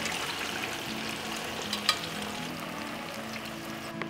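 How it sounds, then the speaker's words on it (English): Mussel cooking broth hits a hot pan of sliced cherry tomatoes, giving a steady close sizzle and bubbling with a few light clinks, no voices. "The cooking broth of the mussels is gonna go right in there."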